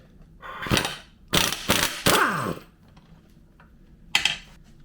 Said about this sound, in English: I'm going to try to get this primary gear off. It's reverse thread.